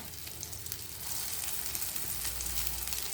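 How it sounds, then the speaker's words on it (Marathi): Shallow frying in about two spoons of oil, a dense continuous sizzle that swells louder after the first second and holds steady, no voices. "आता मी तुम्हाला या शालो फ्राय करून दाखवते दोन चमचे तेल टाकलेले"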